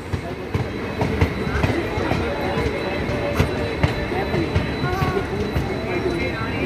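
The 05062 Tanakpur–Kasganj special train passes close by with a steady heavy rumble and repeated clickety-clack wheel beats over the rail joints. The train sound is continuous and loud throughout.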